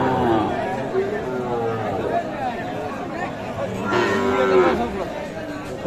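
Cattle low repeatedly at a busy Sahiwal bull and calf market in Mymensingh, drawn-out moos rising over a constant babble of people talking nearby.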